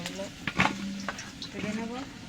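Potatoes being stirred and fried in a pan while making mutton curry, with a steady sizzle, scraping stir strokes, and a voice talking over it.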